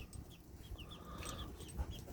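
Young chicks about two to three weeks old cheep in short, high, scattered peeps near a home coop, faint and brief over low background rumble.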